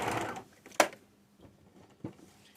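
A sewing machine stitches the unfolded cuff edge of a pair of jeans in a few short, separate bursts with quiet pauses between them.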